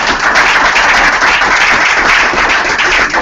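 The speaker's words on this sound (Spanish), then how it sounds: "demos un aplauso a los compañeros" Audience at a humanist politics conference applauds continuously, a dense, loud wash of many hands clapping close by without pause.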